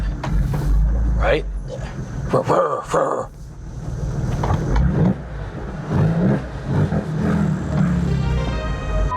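A 2004 Porsche 911 GT3 engine revs loudly in close bursts that rise and fall, with short spoken exchanges over it.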